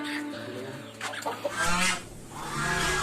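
Hens clucking and squawking on a poultry farm housing fancy chicken breeds (pama, koy, mangon), a cluster of close, fairly loud calls with a louder burst midway and more clucking at the end.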